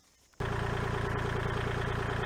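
Kubota L2501 gear-drive tractor engine starting up abruptly and then idling steadily up close, with an even, rhythmic diesel throb.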